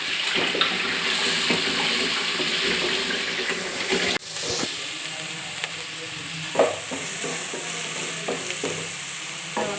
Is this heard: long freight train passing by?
no